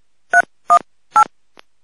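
A telephone keypad dials out to a railway department official: three loud, evenly spaced touch-tone beeps and a faint fourth blip, each short and clean against silence.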